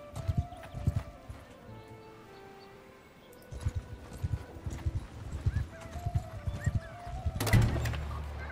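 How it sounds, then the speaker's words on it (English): Horse hooves clip-clop in the video game Bannerlord 2 in uneven bursts of close, clear steps, pausing briefly partway through before resuming, with a louder clatter near the end. "Interesting horses."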